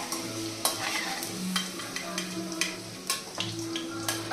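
Browned fried potatoes lifted out of hot oil, with a steady sizzle broken by clattering stirs and scrapes of a slotted spoon against the pan, close and moderately loud.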